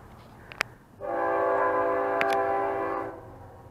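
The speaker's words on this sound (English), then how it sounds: "Figures I can't do a video without a train" A train's horn sounds for about two seconds, a loud, steady chord-like blast rising abruptly and fading, with a couple of sharp clicks before it and low rumble beneath, no talking.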